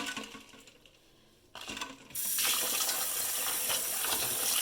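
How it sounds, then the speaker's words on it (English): Boiled eggs are dropped into an ice water bath, a few clinks followed by loud splashing and rushing water that continues to the end. "I'm going to take my eggs and add them so that they can cool very quickly"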